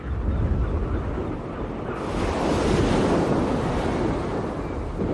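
Sea waves churned by a powerful wind roar continuously, with dense surf crashing and gusty wind buffeting the microphone, loud and unbroken throughout.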